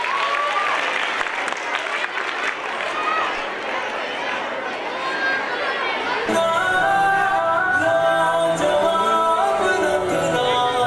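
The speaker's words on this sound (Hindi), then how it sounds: "जोरदार तालियां बजाइए।" Audience clapping at an annual gathering program of an Urdu school, a dense wash of applause filling the room for several seconds before music and singing take over.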